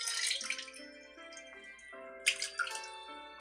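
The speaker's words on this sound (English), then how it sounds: "I can make out the sound of Makina splashing around washing her body" Water splashing in a bathtub as a girl washes in a visual novel scene: two bursts of sloshing and dripping, the second sharper, over soft sustained background music.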